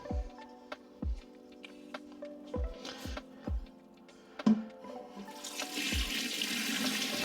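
Brine is poured into a pot holding a turkey, a splashing liquid rush that builds toward the end, preceded by scattered clunks and taps of handling the pot.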